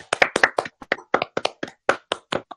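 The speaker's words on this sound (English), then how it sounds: "give us a clap. Give us some claps." A few people clap in unison on a podcast, producing a quick string of sharp, close hand claps with small gaps between them, recorded alone without talk.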